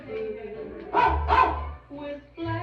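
In a 1950s-style rock and roll novelty song, a dog's bark sounds twice in quick succession, loud and close, between soft instrumental backing with no singing at that moment.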